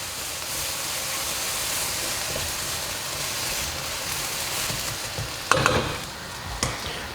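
Garlic and ginger paste sizzles and hisses steadily in a hot pan as a spoon stirs it, with a couple of louder scraping knocks near the end.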